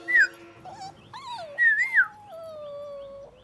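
A dog whimpers in high, wavering whines, several short cries and a longer drawn-out whine, close and fairly quiet.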